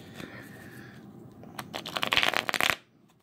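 A large deck of board-game cards is shuffled and riffled by hand, with quiet handling at first and then a burst of rapid, crisp flicking that stops abruptly, all fairly close and soft.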